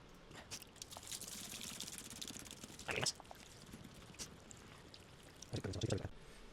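Water glugs and splashes from a heavy, brand-new water keg into a wet room, faint and irregular with brief louder bursts of pouring near the middle and end.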